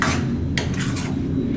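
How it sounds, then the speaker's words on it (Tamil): Salt being stirred into tomato kuzhambu in a pan: a few soft scraping strokes of a spoon against the pan over a steady low kitchen hum, with no one talking. "உப்பு போட்டு இப்படி கலக்கி விடுங்க."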